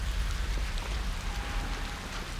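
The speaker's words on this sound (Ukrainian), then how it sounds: "Пішов дощ." Steady rain falls in a continuous hiss with soft patters of drops, close and even throughout, with a faint low rumble underneath, in the video game ARC Raiders.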